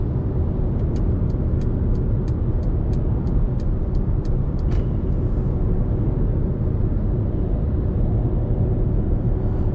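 A 2020 Mercedes-Benz A180 (W177) cruises on a highway, heard from the cabin as a loud, steady engine and road rumble with tyre noise, while a quick run of ticking chimes sounds in the first half.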